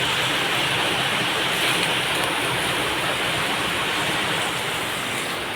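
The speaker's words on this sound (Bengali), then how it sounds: "আর প্রচণ্ড বৃষ্টি হচ্ছে তাই আওয়াজটা একটু" Heavy rain falls as a loud, even wash of noise that stays steady and close for the whole stretch, with no other sounds standing out.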